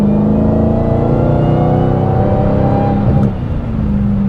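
A 2023 Dodge Challenger Black Ghost on all-season tires accelerates hard, its V8 engine roaring loud and close, with the pitch climbing steadily before a brief dip near the end.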